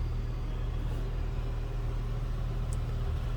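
A 1999 Jeep Wrangler Sport with a 4.0-liter engine idles steadily with a stock exhaust, giving a low, continuous rumble close by that stays even throughout, with no voices over it.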